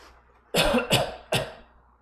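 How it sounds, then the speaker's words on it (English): Three sharp, close coughs in quick succession, each a harsh burst, with a faint hum in the background. "I need to cough."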